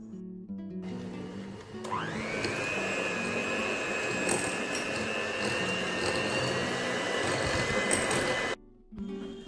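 Hand mixer creaming butter with brown sugar, a steady high-pitched motor whine running loud and continuous for several seconds after switching on, then cutting off.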